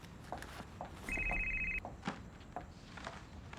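A telephone bell rings in one steady burst of about three-quarters of a second, clear against a quiet room with faint footsteps and small knocks around it.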